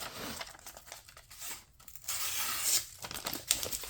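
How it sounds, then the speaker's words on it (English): A freshly sharpened Magnacut or Elmax steel knife slices through thin magazine paper, giving crisp, papery tearing and crinkling strokes in several short passes, close and moderately loud with no voices. "You can see that that is cutting very nicely through that thin magazine paper."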